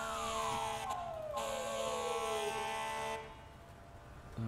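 A fire engine siren wails in the EmergeNYC emergency-response game at a Brooklyn explosion and building collapse, a single loud descending wail that drops steadily in pitch, then cuts away to quieter background with a brief horn-like blip at the end.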